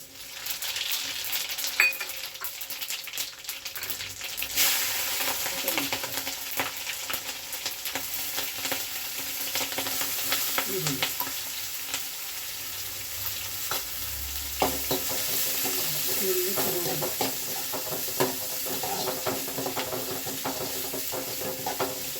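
Cumin seeds sizzle steadily in hot oil in a pan for jeera rice, with a continuous bright crackle, occasional stirring scrapes and clinks, and no voices.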